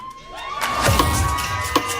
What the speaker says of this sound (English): Now you can hear from the crowd, seems to be a fan favorite, even if it's his debut